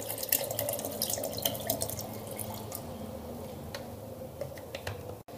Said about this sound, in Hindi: इस तरह से ये सारा पानी आपने जग में डालना है।